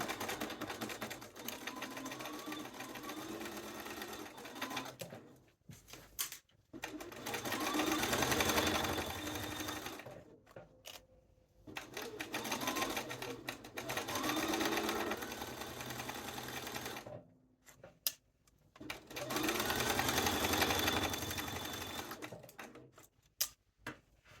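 A sewing machine runs a regular seam on a duster in long, steady bursts of close mechanical whirring, broken by short pauses while the fabric is adjusted.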